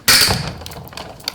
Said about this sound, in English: So you just run it through any kind of regular die cutting machine that you have.